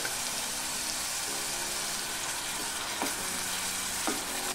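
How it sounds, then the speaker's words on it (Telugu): Onion frying in a pan with a spoon of ginger garlic paste for mutton keema kofta curry, giving a steady, dense sizzle throughout with a couple of brief stirring scrapes, close up. "ఉల్లిపాయ కాస్త వేగాక ఇందులోకి 1 టేబుల్ స్పూన్ అల్లం వెల్లుల్లి పేస్ట్ వేసుకోవాలి."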